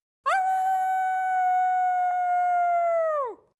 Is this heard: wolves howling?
yes